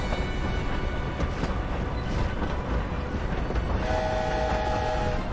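A train moving through the world of the video game Hogwarts Legacy, a steady loud rumble with a long sustained horn-like tone entering near the end and no talk over it.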